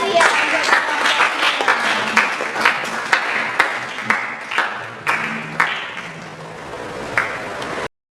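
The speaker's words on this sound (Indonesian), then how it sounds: "Kita kasih tepuk tangan yang meriah untuk kelompok 3." Students applauding a group in a classroom, a loose burst of clapping from a small crowd with distinct sharp individual claps standing out, fairly close and gradually thinning before stopping abruptly.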